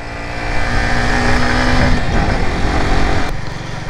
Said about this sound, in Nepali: तान्नै मान्दैन त यार बाइकले त यस्तो तेर्सो बाटो छ